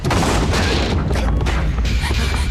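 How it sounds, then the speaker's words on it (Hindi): A gunshot in a horror-thriller film comes as a loud, dense blast with a rumbling boom, followed by a harsh, noisy crash that keeps going with no clear gaps. "Go on, pull the trigger."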